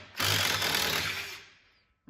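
A power drill bores into van sheet metal and cleans out the threads, a loud continuous whir lasting over a second that winds down and stops, then restarts briefly at the end.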